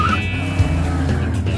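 A cartoon school bus pulls away with a short burst of loud, rumbling engine noise, without any voices.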